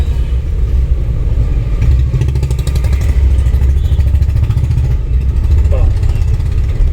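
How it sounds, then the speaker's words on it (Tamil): A driving school car pulling away in second gear, with its engine rumbling loud and close and steady throughout as a person speaks inside the cabin. "வண்டி பிரேக் விட்டுட்டு கிளச்சி விட்டால் வண்டி போயிடும்."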